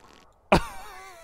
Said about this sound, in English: the noise it made was like a like a wet fart